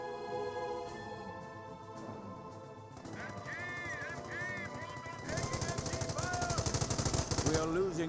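Machine gun fire in Company of Heroes, a Panzer Elite versus US battle, with bursts of rapid gunfire growing louder and denser in the second half among other battlefield effects and a voice talking over the action.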